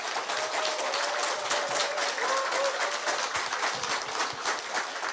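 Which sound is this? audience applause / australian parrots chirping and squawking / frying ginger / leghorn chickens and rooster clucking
audience applause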